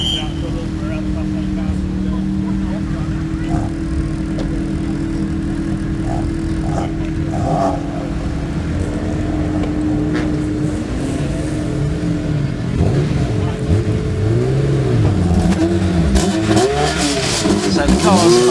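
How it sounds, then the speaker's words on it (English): Race cars roll out onto the Oulton Park circuit for a 750 Motor Club race, engines droning and revving steadily and rising as cars pass near the end, while a commentator talks over them throughout. "So the cars are now being released out onto the circuit for the first race of the afternoon"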